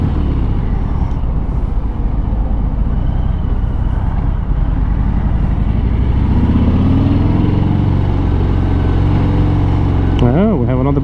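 A motorcycle's engine rumbles loudly and continuously nearby, swelling as the bike passes, with talking over it.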